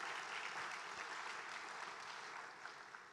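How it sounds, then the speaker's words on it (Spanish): A large congress audience of about 400 cooperative members applauds, a soft, sustained wash of many hands clapping from afar that thins slightly toward the end. "podemos aplaudir, por supuesto"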